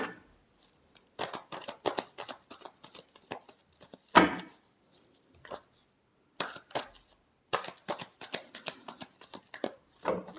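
Tarot cards are shuffled close up in quick, soft riffling bursts and light flicks, with brief pauses between, and no talking.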